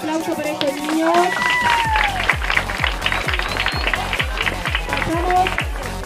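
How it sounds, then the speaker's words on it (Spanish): A crowd at a children's swimming awards ceremony applauds in a steady, rhythmic clap that runs throughout, mixed with music and chatter in the background. "Un aplauso para estos niños."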